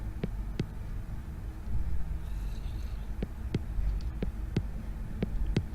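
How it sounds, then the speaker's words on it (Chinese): A slow, muffled heartbeat thumps at regular intervals over a low, steady hum, with a few brief rustling sounds in between. "我这心跳的声音吗？ 真是心跳啊！"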